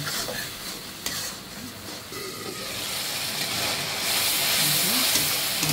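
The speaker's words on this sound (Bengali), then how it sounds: "হলুদ ফাঁকি, মরিচ ফাঁকি, ধনিয়া, স্বাদ মতো লবণ দিয়ে মশলাটা ভালো করে কষিয়ে নেব" Turmeric, chili, coriander and salt sautéed in a hot pan, a continuous frying hiss with stirring scrapes that grows slightly louder toward the end, close and without speech.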